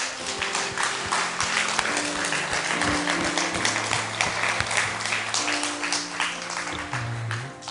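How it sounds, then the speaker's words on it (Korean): A church congregation applauds in a thick, steady wash of clapping that holds for several seconds, with a low hum beneath it. "하나님 앞에 우리 영광의 박수 한번 올려드리겠습니다"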